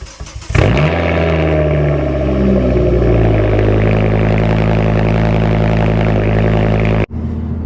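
A Ford Focus ST225 engine cranks and fires up, then settles into a loud, steady, close idle with a slight rev before cutting off abruptly near the end.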